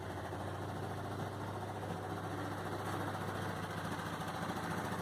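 A Honda Dio AF27 scooter engine with a fault idles and revs with a steady, buzzy two-stroke drone and irregular knocking undertones, close and continuous with no talk.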